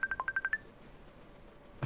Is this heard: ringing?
yes